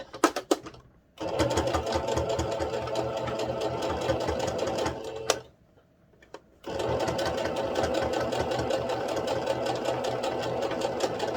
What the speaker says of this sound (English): The only thing I don't like about this sewing machine